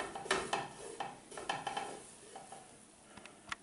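A spoon scrapes and swirls flour and butter into a roux in a pan, with soft rhythmic stirring strokes, faint sizzling and occasional clinks against the pan, heard close with no talking.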